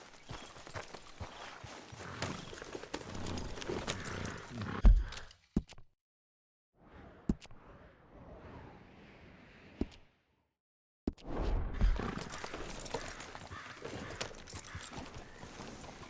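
Horse hooves in Red Dead Redemption 2 clip-clop at a steady walking pace, faint and in the background, with a pause in the middle before the hoofbeats resume.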